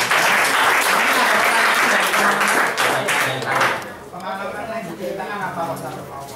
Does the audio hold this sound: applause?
yes